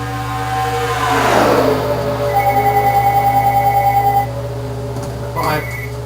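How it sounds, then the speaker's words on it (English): A telephone rings close by in a repeating electronic trill over a steady hum, with a brief burst of other noise near the end. "And the phone is ringing."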